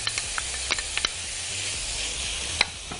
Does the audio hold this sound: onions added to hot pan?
yes